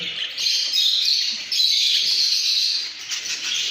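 Steady, high-pitched chirping from several birds nearby, continuous and bright, with no talking.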